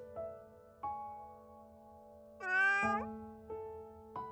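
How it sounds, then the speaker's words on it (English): Cat meowing in the video game Little Witch in the Woods: one drawn-out, rising then falling meow over soft game music with recurring chime notes, heard alone with no talk. "a cat actually came out"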